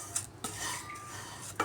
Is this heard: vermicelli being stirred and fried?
yes